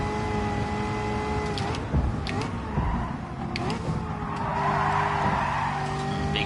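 Car in Gran Turismo engine whine and tire squeal during a big oversteer, a sustained rising-and-falling engine drone under short squeal bursts, steady and moderately loud throughout.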